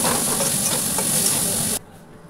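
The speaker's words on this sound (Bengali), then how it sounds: "এবার পেঁয়াজটা ভাজা ভাজা করে" Chopped onions frying in oil in a wok, a loud dense sizzle with stirring that stops abruptly near the end, leaving near silence.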